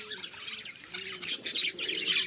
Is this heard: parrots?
yes